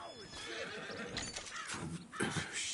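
A horse whinnies in a scene from the film Red 2, with shrill neighs rising and falling over some hoof clops and brief voices nearby.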